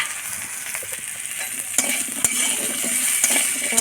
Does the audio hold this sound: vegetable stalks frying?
yes